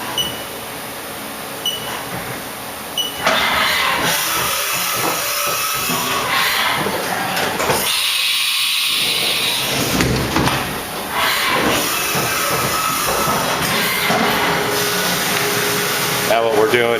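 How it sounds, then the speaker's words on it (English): CNC machine cutting pockets into a seat, a steady loud whir of the spindle and motion system with shifting tones as the cutter moves, continuing for most of the stretch with a brief drop partway through. "Now what we're doing is we're machining the pockets to our specifications."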